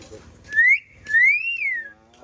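A myna bird whistles two clear rising-and-falling notes, the second longer and sliding, close and alone over a faint background.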